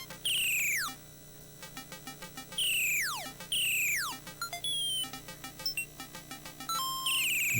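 Chiptune sound effects from a budget Etpark handheld Famicom-style console running classic games, in mono: repeated falling electronic chirps and sweeps, short beeps and bleeps over a steady buzzy tone, close and continuous.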